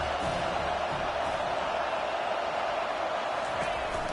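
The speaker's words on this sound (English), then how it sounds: "The crowd getting behind this defense as they try to get a stop in the red zone." Steady broadband stadium crowd roar in EA Sports College Football 25, a 4-star Ole Miss versus TCU online dynasty game, as the crowd backs the defense in the red zone; dense, continuous and fairly even throughout.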